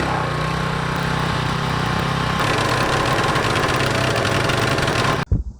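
A pressure washer power-washes the rusty floor of a little red wagon, its engine droning steadily and loudly for about five seconds before cutting off abruptly, with no speech.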